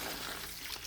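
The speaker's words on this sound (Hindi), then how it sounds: "फिर देखो मेरे पौधों में पानी डालना बाकी था, हम दोनों पानी पानी वाला काम कर रहे हैं।" Water splashes steadily as it is poured onto potted plants, a brief soft continuous hiss with no voices.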